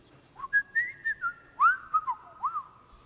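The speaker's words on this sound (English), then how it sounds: "He whistles a tune, slightly derivative yet freshly squeezed from the heart of creation." A man whistles a short, lilting tune outdoors on a shady street. The clear, close melodic notes rise and fall in quick phrases over quiet background noise.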